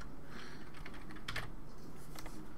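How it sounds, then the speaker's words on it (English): Fingers type on a computer keyboard while entering custom canvas dimensions in Canva, producing a quick run of soft, close clicks with a denser burst midway, over a quiet room hiss. "we'll type that in"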